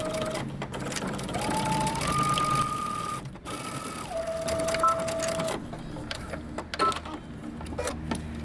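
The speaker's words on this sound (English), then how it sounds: "we're going to top stitch 3/8 of an inch from your seam line" Sewing machine top stitching a folded pocket flap 3/8 inch from the seam line, a steady motor whir running most of the time with brief pauses and rising and falling pitch, plus some clicks.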